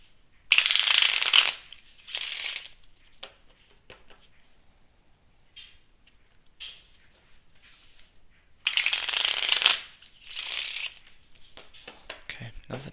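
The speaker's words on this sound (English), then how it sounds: "shuffle the deck a few times" A deck of playing cards is shuffled for a game of Solitaire in a quiet, soft-spoken ASMR setting, with two bursts of crisp riffling a few seconds apart, close and alone.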